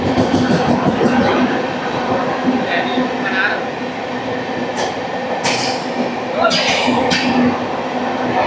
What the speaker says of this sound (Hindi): शिव गंगा सुपरफास्ट एक्सप्रेस, नई दिल्ली से बनारस जाने वाली ट्रेन। भाई साहब ये भी हमें ओवरटेक कर गई